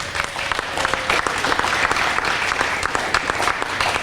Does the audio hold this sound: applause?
yes